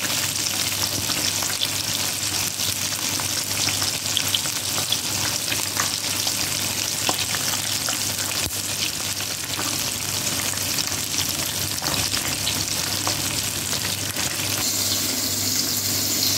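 Pieces of chicken back fry in hot oil Jamaican style, a dense, steady close sizzle and crackle holding constant with faint kitchen clatter and no talking.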